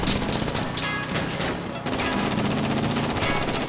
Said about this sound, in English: Looks so sick with the machine pistol.